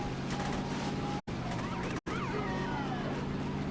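A police siren in the Saints Row video game wails with rising and falling sweeps over a steady engine hum, interrupted by two brief dropouts.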